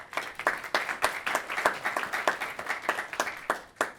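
A modest audience at a healthcare talk welcomes a speaker with scattered clapping, individual claps clearly separate in an uneven patter, fairly close.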